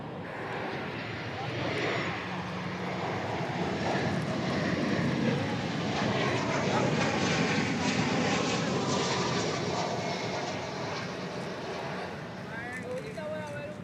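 Aircraft taking off at DFW Airport, a loud, sustained broadband jet roar swelling and holding steady throughout, with no one speaking.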